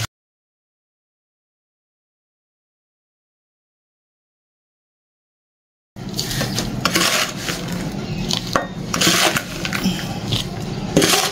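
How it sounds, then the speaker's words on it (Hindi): A plant pot of soil holding a coleus cutting is tapped and knocked against a surface to settle air bubbles, giving a busy run of hard clattering knocks after a silent start. "थोड़ा सा इसको ऐसे पटकेंगे तो जो इसके अंदर एयर बबल होंगे वो भी निकल जाएंगे"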